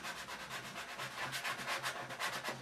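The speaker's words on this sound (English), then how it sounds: "So I'm just going to sand" Hand sanding a piece for a torso model build, a soft, faint scratchy rubbing repeated in quick even back-and-forth strokes, alone without talk.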